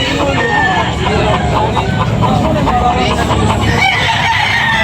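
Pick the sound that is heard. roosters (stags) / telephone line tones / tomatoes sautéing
roosters (stags)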